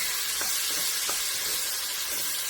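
Diced onion and garlic sizzle in a pot over medium heat for a potato soup, giving a steady, close hiss with a few faint stirring taps and no talking.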